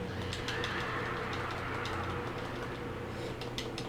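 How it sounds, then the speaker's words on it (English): A flock of birds swarms and attacks in the Alan Wake video game, a dense, continuous flutter of wings and clattering bird noise with sharp ticking hits over a steady rumble, no talking. "See how many damn birds I have to deal with"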